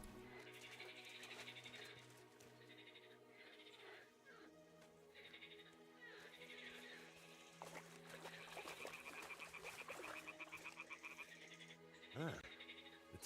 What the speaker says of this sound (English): toads are croaking here